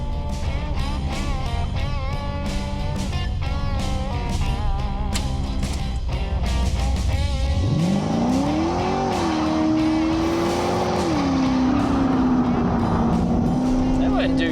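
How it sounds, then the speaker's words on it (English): Buick Regal G-body pro mod doing a big burnout on a rural road, a loud roaring engine that revs hard and climbs into a sustained high whine with tire noise throughout. "plenty of places to do a big pro mod burnout"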